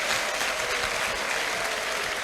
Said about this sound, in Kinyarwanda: Nyemerera Imana tuyihereza amashyi, ababyeyi bayivugiriza impundu